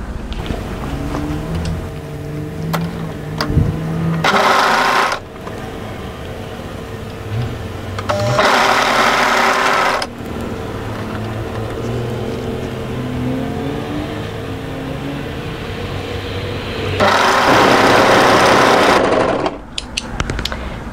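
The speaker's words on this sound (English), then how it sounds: "go to your overlocker and overlock that seam" An overlocker stitches a sleeve seam on a raglan hoodie in three loud bursts of fast, whirring running, separated by quieter pauses with faint machine hum and small handling sounds.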